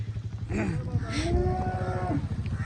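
A Cholistani Friesian cross cow moos in a long, drawn-out call with a rising then steady tone, close and loud over a low background hum, with no talking during the call.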